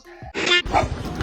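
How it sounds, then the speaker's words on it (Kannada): A dog gives a short yelp and bark, two quick close bursts lasting about a second. "ನಾಯಿ"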